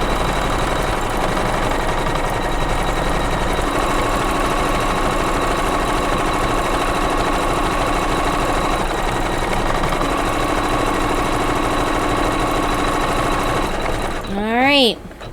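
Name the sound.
embroidery machine stitching out a flagpole design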